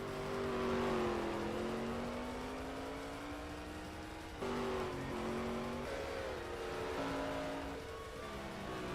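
Race cars lapping the Indy layout at Brands Hatch in a racing video game, several engines droning and shifting pitch together as they climb and drop through the gears, a steady, dense roar with no talking.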